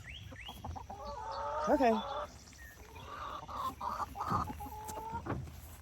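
Backyard chickens cluck and squawk near a new homemade feeder and water dispenser, short bursts of clucking rising and falling while a person speaks briefly over them.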